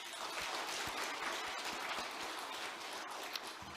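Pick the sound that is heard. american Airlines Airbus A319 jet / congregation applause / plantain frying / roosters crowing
congregation applause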